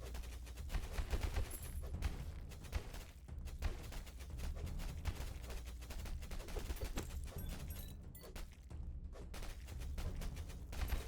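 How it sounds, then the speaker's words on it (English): Rapid bursts of enemy explosions in the Tower of Babel roguelike video game, a dense, irregular barrage of sharp blasts and thumps layered over game sound, with no talking. "They just explode right away."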